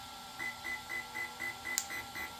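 A Hobbywing Max 5 electronic speed controller in an RC boat beeps in a steady, evenly spaced series of eight short tones, with one sharp click near the end, and no talking.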